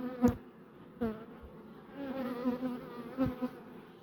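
Honeybees buzz in a steady, close drone around an open beehive while frames are lifted out, with a few louder passes of single bees flying near.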